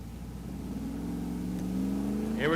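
Drag race cars at a Bottom Bulb Blowout shootout, including Shane Reese's War Wagon, roar in a steady rising engine drone that builds in pitch and loudness toward the end.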